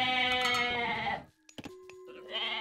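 Goats bleat in Age of Mythology: Retold: a long, wavering bleat, a short pause with a few soft clicks, then a second bleat rising at the end. No talking is heard.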